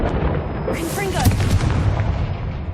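Confringo blasting spell in the video game Hogwarts Legacy, a booming blast with a crackling burst and fizzing whoosh over a rumbling background, loud and close.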